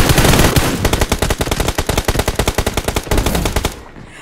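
Loud, rapid automatic gunfire from PUBG Mobile, a steady stream of closely spaced shots that runs for about three seconds before cutting off, with no talking.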